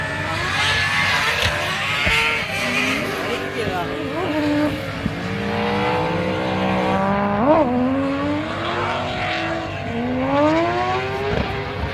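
A 671-supercharged 1UZ V8 in a Nissan Silvia drift car revs hard toward 9000 rpm, its sweeping engine pitch rising and falling continuously through the run with tire noise, loud and sustained, while a voice talks over it.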